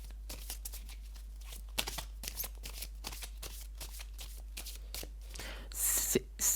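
Tarot and oracle cards handled, shuffled and laid down on a table, a quiet run of soft papery flicks and taps with a louder rustle near the end, no talking.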